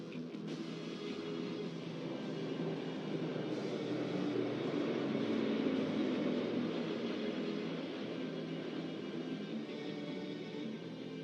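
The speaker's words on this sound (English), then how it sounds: "Flanking it are 2 C-295 aircraft, flown by Group Captain Shivam P.K. Vasan" Two C-295 transport aircraft fly past over the Republic Day parade in Delhi, a broad, steady propeller-engine roar that swells slightly and stays distant and sustained.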